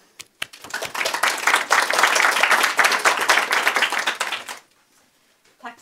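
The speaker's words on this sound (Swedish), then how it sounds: "med en varm applåd tycker jag välkomnar Kristina upp på scen" Warm applause from a seated audience at a Swedish public talk on patient participation in healthcare, welcoming a speaker onto the stage; dense steady clapping for about four and a half seconds, then stopping abruptly into near silence.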